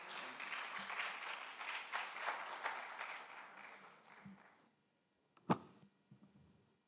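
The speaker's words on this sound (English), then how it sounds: "Let's clap for them." Audience applause at a social entrepreneurship and philanthropy conference, a steady wash of clapping for about four and a half seconds that stops abruptly, followed by a brief sharp knock and faint room noise.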